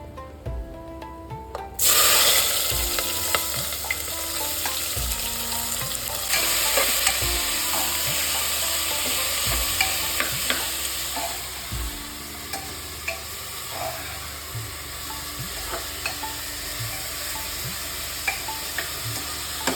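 Thinly sliced onions for a mutton curry hit hot oil with a sudden loud sizzle, then keep frying in a pan while a spatula scrapes and stirs them in repeated close strokes.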